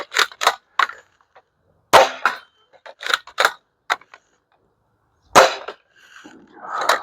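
An Adventure Force Aeon Pro X toy blaster fires darts in sharp, snappy bursts, some in quick pairs, separated by short pauses, loud and close, ending with a faint rattle.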